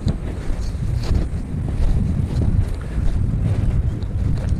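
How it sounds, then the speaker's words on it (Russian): Strong December wind at a bird-trapping site buffets the microphone in heavy, rumbling gusts, with a roaring low rush that swells and eases throughout. "Ветер."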